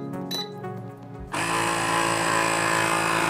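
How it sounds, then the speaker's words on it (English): A small, loud air compressor in a Nasan Supa Lite autoclave bubble remover kicks on after a brief mechanical start, then holds a steady, close buzzing drone pumping air into the chamber. "You will hear the little loud compressor go on."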